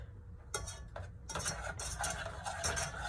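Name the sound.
stirring a sauce until it emulsifies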